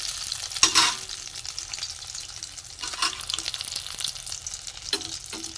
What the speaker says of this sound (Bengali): আমি আস্তে আস্তে তেলে ভেজে নেব